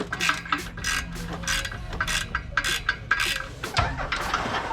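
Hand tools work loose the clutch and flywheel on a Mustang, giving a quick run of ratchet clicks in bursts with metallic rattles and a clunk near the end, close and moderately loud.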